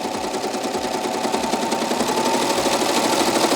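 Baby Lock Acclaim serger running continuously at speed, a loud, steady mechanical whir with a fast rhythmic chatter throughout.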